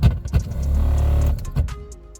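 A broken car blower motor runs with a steady droning hum that swells and holds for about a second, then drops away, with a few knocks and clicks around it.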